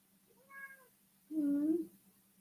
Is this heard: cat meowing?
yes